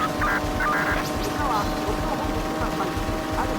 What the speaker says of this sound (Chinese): 上面来了一个直升机